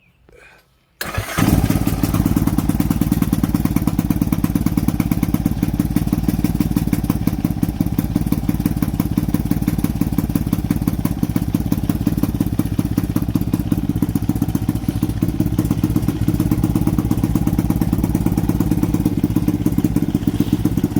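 Lifan KP Mini 223 165FMM single-cylinder motorcycle engine on a big-wheel mock-up starts after a short pause and keeps running steadily with a loud, close, rapid chugging idle.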